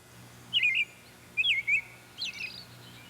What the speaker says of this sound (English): It pauses, then lets out another short burst of song.